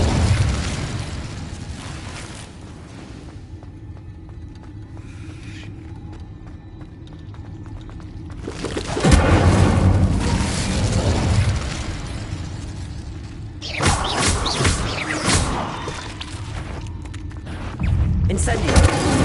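A burst of Incendio fire-spell blasts in Hogwarts Legacy, loud whooshing flares arriving in clusters over a game soundscape, with quieter stretches between them.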